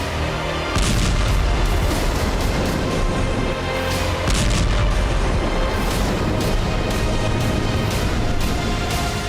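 Heavy explosions from an attack on a Ukrainian reconnaissance platoon, a dense, loud, continuous rumble of blasts and cracking bursts lasting throughout, with a short lull before the roar resumes.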